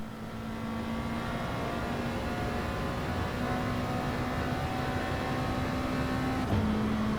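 A Gr.3 race car on a qualifying lap at Le Mans in a racing video game, its engine a steady, loud, sustained drone with a held tone and a brief shift near the end, no talk.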